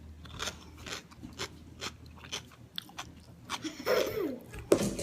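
Crisp crunchy bites and chewing of Korean vegan pickled cucumber with sesame seeds and scallions, a string of close, sharp crunches that grow louder toward the end.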